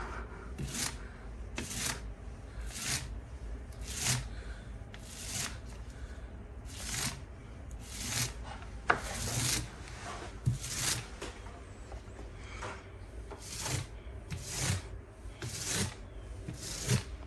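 A putty knife smooths filler over a cabinet box in steady, evenly spaced scraping strokes, roughly one every second, close and moderately loud, with no voices.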